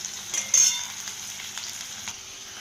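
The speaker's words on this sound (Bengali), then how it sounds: "একটু পেঁয়াজটা লাল লাল ভাজা হোক।" Onions frying in oil in a kadai before mutton goes in: an even, close hiss of sizzling with a louder burst early on and faint stirring scrapes, no voices.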